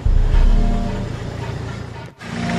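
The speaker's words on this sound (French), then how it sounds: "Un véhicule qui n'arrive pas à monter là-bas." A small car strains up a slope on a rough forest track blocked by huge tree trunks, its engine droning and revving loudly and steadily up close, with a brief dip near the end.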